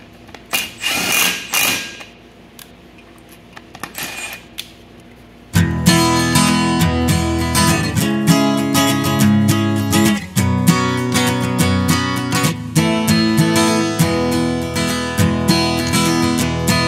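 A few faint taps, then a loud power tool whirring steadily for several seconds as it runs threadlocked wheel studs into a Ford 9-inch axle hub, its pitch dipping briefly under load.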